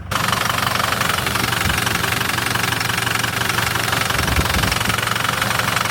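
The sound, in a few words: Ford PowerStroke diesel engine running rough, struggling to rev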